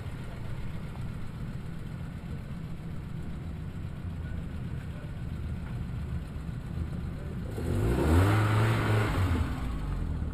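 An Alfa Romeo rally car at a night rally drives past, its engine note building gradually and peaking as it nears, then holding a strong revving roar near the end over steady background hum.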